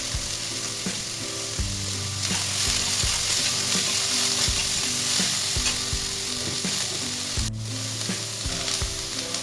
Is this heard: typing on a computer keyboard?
no